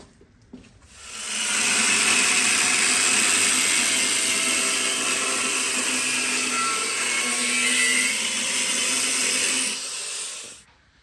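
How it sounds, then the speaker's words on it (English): An angle grinder cuts out a steel adapter plate for a 1941 Ford pickup frame X brace, spinning up to a loud sustained high whine for about nine seconds before winding down. "My brother's just gonna cut it out with the angle grinder now."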